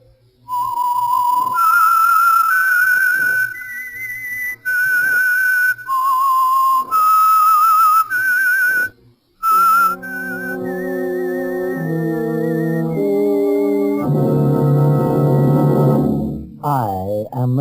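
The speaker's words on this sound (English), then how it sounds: "That whistle is your signal" A lone whistler carries a slow, eerie melody with clear sustained notes, then an orchestral passage swells in underneath and takes over.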